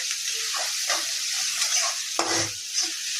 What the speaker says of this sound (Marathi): छान फ्राय होऊ द्यायचा कांदा